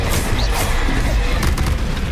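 An Incendio spell cast in Hogwarts Legacy, a loud, dense roaring burst with rumbling booms that stays full and steady throughout, with no break.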